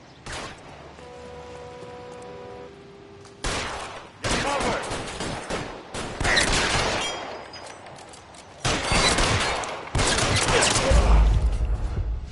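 Gunfire in LA Noire Remastered on PS5, sharp shots coming in loud bursts and clusters through a tense firefight, with a brief musical tone before the shooting starts.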